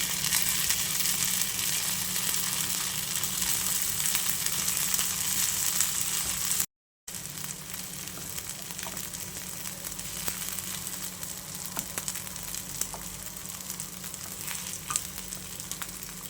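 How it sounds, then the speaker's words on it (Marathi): Sabudana vada frying in two spoons of oil, a steady close sizzle with fine crackle running throughout, briefly cut by a short gap midway. "आता हे सुद्धा आपण फ्राय करून घेऊया दोन चमचे तेल घातलेलं आहे आणि त्यावर हे टाकून घेऊया"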